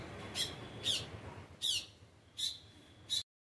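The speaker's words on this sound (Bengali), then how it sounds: "ওই ফিঙে পাখি ওর মতোই ও গান গাক" A black drongo perched on a kadam tree branch gives five sharp, loud squawking calls at irregular intervals, fairly close, with no one talking over them.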